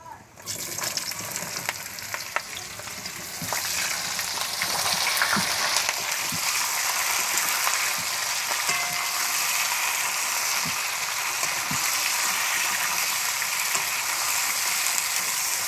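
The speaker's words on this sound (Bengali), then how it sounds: "সবজিটা ভালো করে রোস্ট করে নেব যেন কাঁচা না থাকে।" Mixed vegetables for shukto fry in a pan seasoned with five-spice, bay leaves and a dried chilli, giving a continuous loud sizzle with scattered scraping clicks of stirring, close up throughout.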